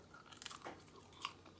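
Crisp homemade tortilla chips crunched in a few quick, close bites, with sharp snaps clustered near the start and a single louder crunch toward the end against a quiet room.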